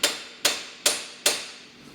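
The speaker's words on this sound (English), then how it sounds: "I will also leave the nut on there because I am going to do the hammer trick." Four sharp, evenly spaced metal hammer strikes on a car's ball joint nut to jar it loose, each loud, close ringing hit fading before the next, with no talking.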